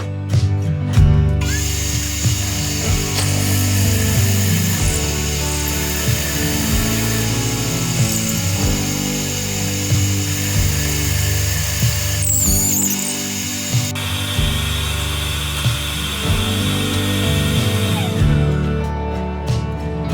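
A power drill fitted with Forstner bits bores out wood for a vase, a loud, continuous whirring grind with shifting pitch as the bit cuts, briefly easing and resuming throughout.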